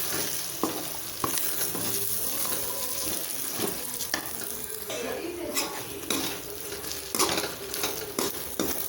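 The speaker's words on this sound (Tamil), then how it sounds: "இப்போ நல்லா கலந்து விட்டுக்கலாம்." Food is stirred and mixed in a sizzling frying pan during parotta preparation, with steady scraping strokes and occasional sharp utensil clacks against the metal over continuous close frying.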